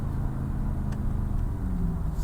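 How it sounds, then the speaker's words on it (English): A 2025 Aston Martin Vantage engine idles while warming up, a steady low rumble that holds even and close throughout with no revving. "we're getting the car to warm up"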